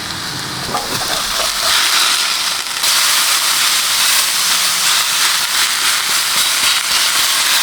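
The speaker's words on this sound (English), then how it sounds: "while we're waiting for this burger to cook" A burger sizzles on a camping stove beside a truck in the Rocky Mountains at night, giving a steady, loud hiss of steam and frying that runs unbroken throughout with no voices.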